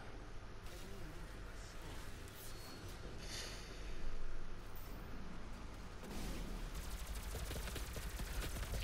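Rapid gunfire from Doom multiplayer, with weapons spraying bullets in a fight against a Revenant, a steady dense clatter of shots that swells briefly around the middle and continues to the end.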